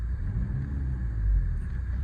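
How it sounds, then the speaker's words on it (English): A 2013 Audi A5 Sportback 2.0 TDIe diesel engine given a quick rev against its soft limiter; a steady, low rumbling drone that swells briefly in the middle, heard close with no talking. "I'll just give it a quick rev so you can hear it."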